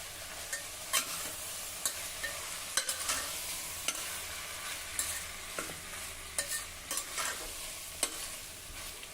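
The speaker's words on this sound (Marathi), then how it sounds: "आता आपण धुवून ठेवलेले हे तांदूळ घालूया." Washed rice tipped into a hot pan with freshly pounded masala and dry coconut slices, then stirred steadily, sizzling and frying loudly with repeated scraping strokes and no voices.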